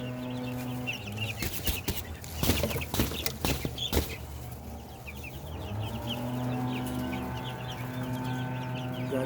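A farmyard flock of Cornish hens and turkeys clucks steadily, with a burst of sharp clattering knocks and wing flaps in the first half before the low, even murmur of clucking and background hum returns.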